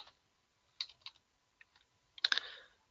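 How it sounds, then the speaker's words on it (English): Scattered keystrokes on a computer keyboard, a few isolated clicks followed by a quick burst of several keys near the end, close and fairly quiet. "So I'll just type here"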